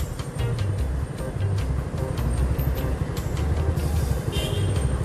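Steady dense rumble of buses and road traffic at the Simpang Amplas bus terminal and flyover in Medan, with idling engines throbbing low and continuous, fairly loud and close, no voices.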